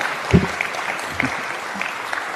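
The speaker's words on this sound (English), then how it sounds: "Muted applause for that." Sparse, muted clapping comes from a lecture audience at a Christopher Hitchens talk in Seattle. A few scattered claps sound over a faint room background.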